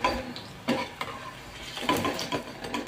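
Cucumber vada fry in hot oil with a soft, continuous sizzle, broken by a few light scrapes and stirring knocks close by.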